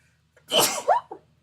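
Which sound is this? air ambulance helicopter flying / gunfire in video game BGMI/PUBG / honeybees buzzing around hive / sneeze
sneeze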